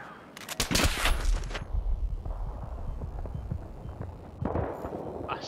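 Battlefield 3 gunfire on the Operation Firestorm map in a team deathmatch, with a loud, rapid automatic burst up front, steady crackling shots after it and another burst near the end.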